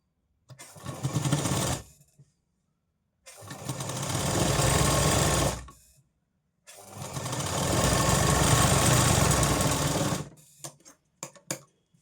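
An electric sewing machine stitches a blouse seam in three loud close bursts, the last the longest, with quiet pauses between them and a few short clicks at the end.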